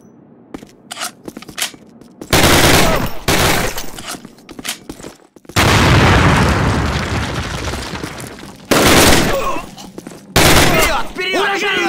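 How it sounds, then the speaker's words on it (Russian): In the Call of Duty video game, explosive charges blow open doors, and the heavy booming blasts are followed by loud bursts of gunfire and rumbling. Voices shout at intervals between the noise. "Отойдите, мы взорвем их!"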